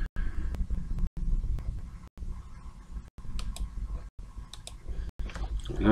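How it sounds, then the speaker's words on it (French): A computer mouse clicks on a file, producing several sharp, close clicks spaced about a second apart against a quiet room background. "Je vais cliquer dessus."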